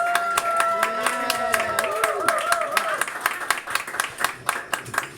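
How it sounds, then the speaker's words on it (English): A live audience at a tiki bar building and theming event applauds, with dense clapping continuing for several seconds and gradually thinning toward the end, overlapping a sustained musical tone early on. "let's give him and Tina a round of applause."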